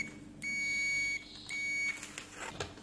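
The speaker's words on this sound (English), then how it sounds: "If you want to test continuity for any cable, one lead here, it is giving beep" Two sustained electronic beeps from an Aneng auto-ranging multimeter continuity test, each about a second long with a short gap between, clear and close against a quiet background.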